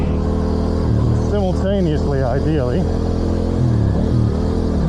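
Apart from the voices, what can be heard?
Yamaha R7 motorcycle revving during race start practice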